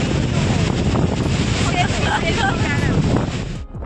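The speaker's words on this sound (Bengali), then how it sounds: "সমুদ্রের সাউন্ডটা শোনানোর জন্য আর মিউট করলাম না" Sea waves on the beach at Mandarmani make a steady, loud broadband roar with wind buffeting the microphone throughout, easing off only in the last moments.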